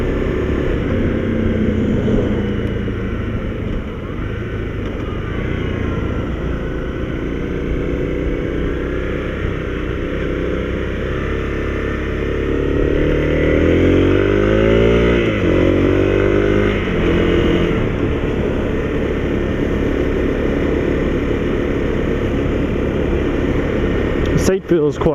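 A Honda CRF250L motorcycle is ridden, its engine droning loud and close throughout, with rising and falling revs and wind rush, while a rider talks over it.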